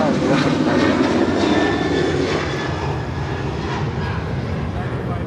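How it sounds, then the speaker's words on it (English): A United Boeing 737-800 takes off from runway 25 left at Los Angeles International Airport, a loud sustained engine roar that slowly fades, with voices talking over it. "That is a 25 left takeoff with the United Flight 1295 departing to Lihue on a 737-800"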